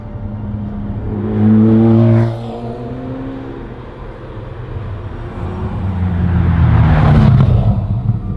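McLaren F1 road car engine revs up and falls away in a short burst, then builds again into a louder, sustained rev that rises and drops back, heard up close and alone.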